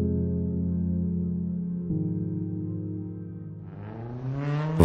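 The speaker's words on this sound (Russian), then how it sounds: "Вдруг послышался звук машины." A sports car engine hums steadily for an audio drama, then rises in pitch and revs harder as the car approaches, ending in a sharp burst.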